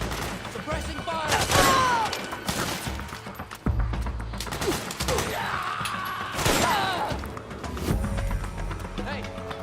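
Suppressing gunfire during a Metal Gear Solid 4 firefight, with rapid bursts and sharp cracks layered over a busy, loud battle din while voices shout throughout.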